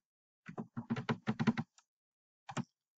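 Fingers typing on a computer keyboard, a quick run of about ten close keystrokes in a dense burst, then a short pause and a couple of final taps, alone with no talk.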